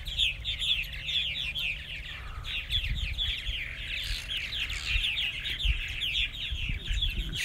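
A flock of purple martins calls around a martin house in the evening, a dense, continuous chorus of chirps and twittering warbles. Occasional low thumps and faint background rumble sit beneath the calls.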